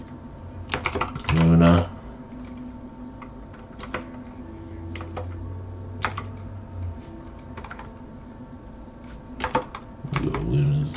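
Computer keyboard clicking during a Pokémon Infinite Fusion gaming session, with scattered sharp keystrokes close up and a few brief words spoken over them.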